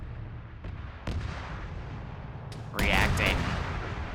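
Gunfire and explosions in a military video game, with sharp reports near and far and a louder burst of fire rising toward the end, heard under a man's brief spoken words.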